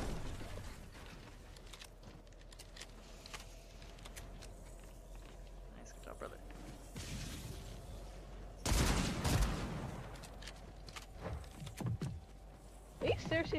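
Shotgun fire in the video game Fortnite: scattered gunshots and mechanical clicks under quiet background sound, then a heavy, loud blast and a final burst near the end.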